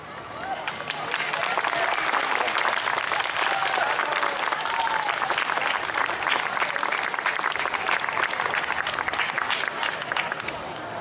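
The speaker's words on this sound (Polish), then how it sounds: "Brawa." Sustained audience applause after a dance performance by a movement academy at an outdoor town festival in Bystrzyca Kłodzka, Poland, dense steady clapping from a large crowd lasting several seconds.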